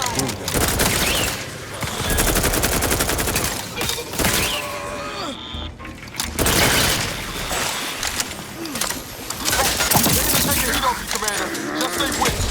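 Sustained gunfire fills a battle in The Outer Worlds 2, with dense bursts, booms and shattering impacts, loud and close, and shouted voices breaking in between volleys.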